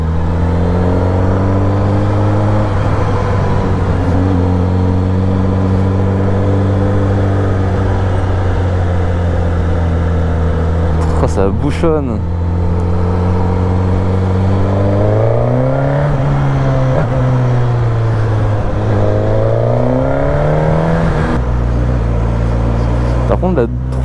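A Suzuki GSX-S 950 motorcycle's engine revs and pulls through the gears, its steady drone rising in pitch in several climbs with a brief dip near the middle, heard close from the rider's position while someone talks over it.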